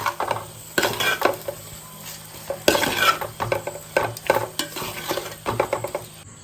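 A spoon scrapes and stirs Kerala-style fish pickle in a metal pan, in irregular bursts of clinks and scrapes with a light sizzle underneath, close and clear, with no voices.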